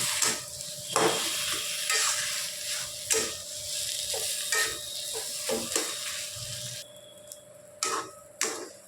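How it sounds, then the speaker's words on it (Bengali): Potatoes being stirred together with onions in a hot pan, giving a steady frying sizzle broken by repeated scraping and clinking strokes of a spoon against the pan, close and fairly loud with no talking. "এবার আমরা পেঁয়াজের সাথে আলুটা খুব ভালো করে মিশিয়ে নেব।"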